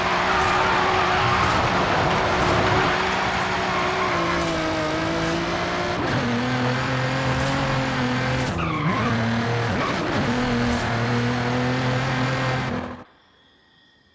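A car engine in Forza Horizon 5 revs and holds steady pitched tones, shifting up and down through gears with tire squeal, loud and close throughout, then cutting off abruptly near the end.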